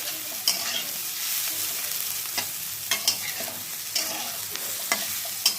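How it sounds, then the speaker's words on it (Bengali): Vegetables for veg semolina fry in a pan, a continuous soft sizzle broken by several sharp scrapes and knocks of a spoon stirring against the metal, close and steady with no talking. "এই যে এই সমস্ত ভেজিটেবলসগুলোই কিন্তু আমি ভেজে নিলাম।"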